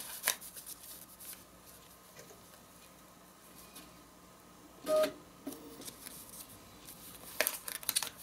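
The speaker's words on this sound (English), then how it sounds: "So I'm just going to rip the paper," Thin foundation paper being torn from a quilt project, a couple of short, crisp ripping bursts against a quiet background with faint handling rustle between them.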